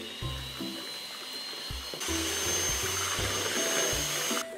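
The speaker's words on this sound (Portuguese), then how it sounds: "E agora eu vou bater até ficar homogêneo." An electric mixer beats a powdered milk dessert mixture with a steady whirring motor hum that grows louder partway through. It is heard close up, with no talking.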